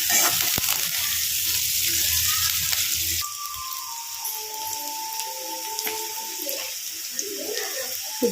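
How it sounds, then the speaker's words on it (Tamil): Curry leaves and onions sauté in a hot pan for an egg chukka fry, giving a steady close sizzle with a louder hiss over the first few seconds that settles into a softer crackle. "கருவேப்பிலை, வெங்காயம் நல்லா வதங்கி வரட்டுங்க."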